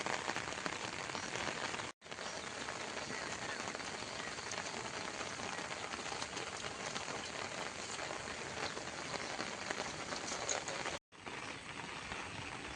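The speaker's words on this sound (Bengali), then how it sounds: "এখন একটু বৃষ্টির জোরটা একটু কমেছে" Steady light rain, eased after a heavier spell, patters on a surface, dense and close, with two brief cut-outs in the recording.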